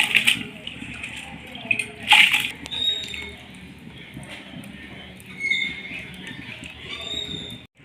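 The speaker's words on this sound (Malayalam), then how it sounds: "നമുക്ക് ഈ അരി ഇടാം." Washed rice and fenugreek seeds tip into a pot of water for coconut rice, giving two short splashing pours early on, followed by softer stirring and kitchen clatter.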